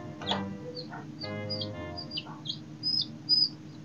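Chicken clucking close by in a rural setting, a few short bursts with brief chirpy calls mixed in over a low background rumble, no talk.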